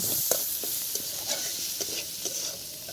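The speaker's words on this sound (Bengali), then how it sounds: "দেন হচ্ছে চিংড়ি মাছ দিয়ে একটু কড়া কড়া করে লাল লাল করে ভেজে নিব" Shrimp frying hard in oil with chili, coriander and other spices, a loud, steady sizzle broken by several light stirring scrapes across the pan.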